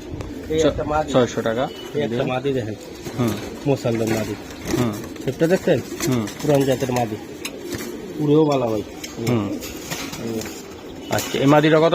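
Giribaz chila pigeons at a seller's loft coo among people, their calls mixed in and partly masked under steady, close conversation throughout.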